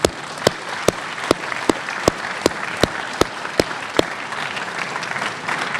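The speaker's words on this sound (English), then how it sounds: "I just want to give all of them a really big round of applause" A school audience claps in broad applause, with a few sharp claps standing out in a steady, evenly spaced beat over the softer patter of the crowd.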